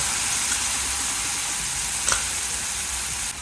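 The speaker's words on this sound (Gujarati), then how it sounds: "સોતળશું સાથે આદુ. સોતળી નાખશું બધી વસ્તુ." Onions, ginger and ground masala sauté in a pan for chana masala, a steady, even sizzle with a faint scrape of stirring near the middle, close and moderately loud, without any talk.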